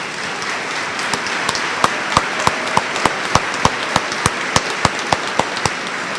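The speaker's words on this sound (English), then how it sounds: "can we give them a round of applause?" Sharp claps ring out at a steady, fairly regular pace over a hiss of background noise, like a small crowd applauding.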